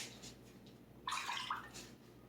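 Water splashed by hand in a kitchen while making Scotch eggs: one short, bright splash, close and moderately loud, over quiet room tone.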